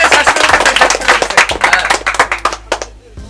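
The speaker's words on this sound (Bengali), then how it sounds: "এই হাতে তালি দাও হাতে তালি" Hand clapping nearby: a run of rapid, sharp, uneven claps that gradually thin out and fade, with a low hum underneath.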